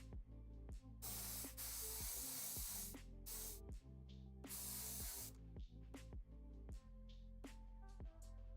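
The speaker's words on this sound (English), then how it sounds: "this is my first time doing contrast paint through the airbrush" An airbrush sprays contrast paint onto a Warhammer 40k miniature, sending out loud bursts of hiss that start and stop in several short blasts. A low steady hum and tonal sounds run underneath.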